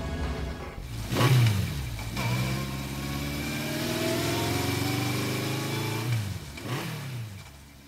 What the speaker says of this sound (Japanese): カガリはバイクを発進させた。